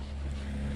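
A 1500W Aostirmotor S17 electric bike running at top speed on throttle alone, heard as a steady, loud rushing drone of motor and wind with no pauses.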